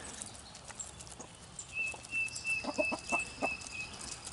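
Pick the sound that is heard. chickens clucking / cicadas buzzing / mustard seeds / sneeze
chickens clucking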